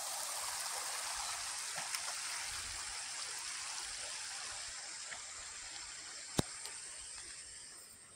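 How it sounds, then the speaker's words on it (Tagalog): Clear water from a mountain stream flows steadily past, a continuous broad hissing rush at close range with a couple of faint clicks and no voices. "Ito yung tubig na galing dun sa bundok. Ang linaw ng tubig."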